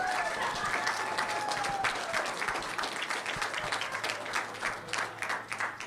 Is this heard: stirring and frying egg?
no